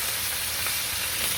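Fish pieces hiss and sizzle steadily in a hot pan of oil with cumin seeds, a dense, even frying noise close by with no talk over it.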